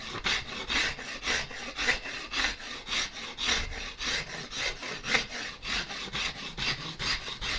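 A wooden guitar neck is carved by hand with a rasp, strokes scraping back and forth in a steady, even rhythm, close and moderately loud with no talking.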